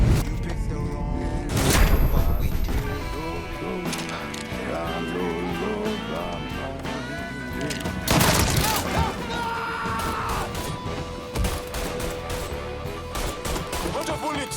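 Gunfire in the video game Mafia III, with loud bursts of shots crashing out twice amid a dense mix of game effects and music while a player talks over the action.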